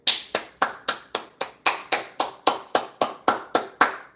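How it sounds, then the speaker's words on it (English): Spectators in a courtroom clap after a life sentence is handed down, a steady run of about fifteen sharp, evenly spaced claps that sound close and clear, with no voices over them. "they clapped"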